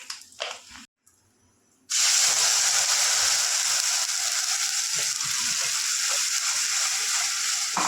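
Masala with asafoetida frying in oil in a kadhai: after a short pause, a loud, steady sizzle and hiss starts and holds, close and continuous, with faint clinks underneath.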